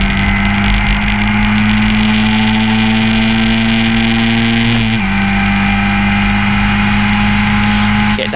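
Historic Formula Ford race cars accelerating at Silverstone, a loud, close, sustained engine howl with steady harmonics that dip in pitch partway through as the car shifts and carries on pulling hard.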